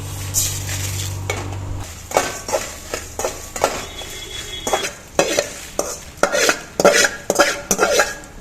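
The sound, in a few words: frying onions and tomatoes in oil in a kadai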